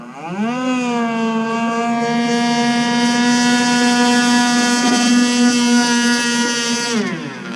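An Enforcer Super G RC powerboat with a tuned pipe screams at full throttle, the high nitro engine whine climbing quickly, holding steady and loud, then dropping off near the end.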